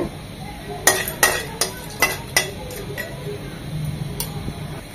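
Whole spices (peppercorns, cinnamon pieces and cloves) frying in a pan, with a quiet steady sizzle and a string of sharp clicking taps from a spoon against the pan, close and without talk.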